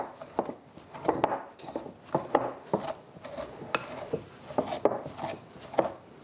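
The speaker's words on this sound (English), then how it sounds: "with a pastry cutter or a fork, whichever one you have on hand, you're gonna wanna make sure all that butter is mixed in there with the cinnamon and the brown sugar" Butter is worked into brown sugar and cinnamon with a pastry cutter, making a soft rhythmic series of muffled chopping and scraping strokes against a bowl, close and quiet, with no talk.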